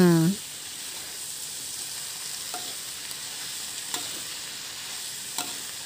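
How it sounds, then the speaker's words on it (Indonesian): Leftover vegetables fry in a home pan with a steady, close sizzle, while a spatula stirs them with a few sparse scrapes and taps. A brief tonal sound opens the moment before the frying takes over. "Kita aduk ini dulu deh"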